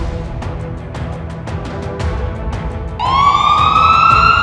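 Ambulance sirens in a city street: a pulsing, repeated whoop with traffic rumble, then a loud wailing siren tone sweeps in and holds close for the final seconds.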